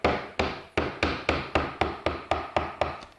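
A mallet strikes a deep number 7 gouge carving wood across the grain, roughing out an iris relief: nine even, solid knocks in steady rhythm, each with a short chipping rasp, close and alone.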